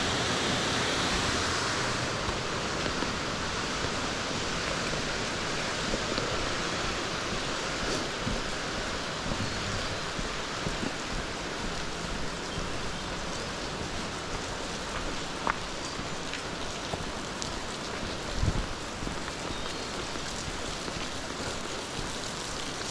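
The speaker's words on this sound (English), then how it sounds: "looking up at Old Man's Cave, and the water coming down the rocks" Water flowing down the rocks at Old Man's Cave, a steady broadband rush like a waterfall or stream, continuous and fairly even throughout with no voices.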